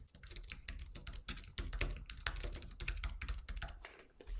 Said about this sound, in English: I'm first going to type the name of the link